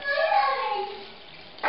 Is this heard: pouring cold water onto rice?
yes